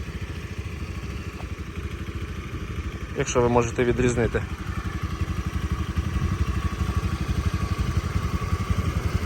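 A Honda Dio AF-68 scooter engine idles steadily with an even, rapid putter, while a person speaks briefly over it midway.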